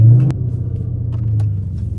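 A big truck passes close by on a downtown Charlotte street, a loud deep engine rumble that swells and fades over two seconds with a couple of sharp knocks.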